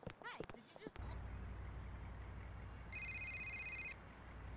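Phone ringing in the video game Grand Theft Auto IV, a single electronic ring burst about a second long over steady traffic and engine rumble, following brief talk at the start.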